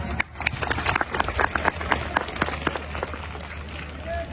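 Applause from a crowd at a school gathering of village children, teachers and the managing committee: a dense, steady patter of many hands clapping at close range, with a voice coming through now and then.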